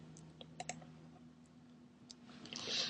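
Several faint, sharp computer mouse clicks spaced irregularly over a low steady hum, made while working in a WordPress admin panel on a quiet desk.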